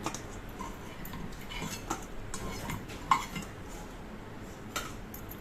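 Fasting appe being lifted out of an appe pan, with a few soft metallic clinks and scrapes of a utensil against the pan, fairly quiet and close.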